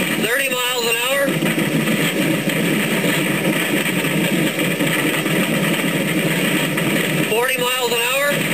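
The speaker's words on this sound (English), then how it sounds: "to attempt to go faster on a motorcycle than any man had ever gone" A motorcycle engine during an old speed record attempt runs steadily in a noisy, dense recording, its drone continuous with brief rising whines at the start and end.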